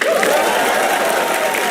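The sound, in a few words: audience applause for the opening act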